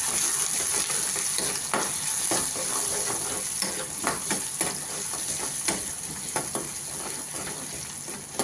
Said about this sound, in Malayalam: ചുവന്നുള്ളി ഗ്യാസിലിട്ട് ഒന്ന് മൂത്ത് വരുമ്പോൾ നമുക്ക് ഇതാക്കാം.